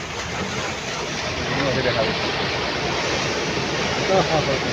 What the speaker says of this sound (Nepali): डरलाग्दो आयो छाल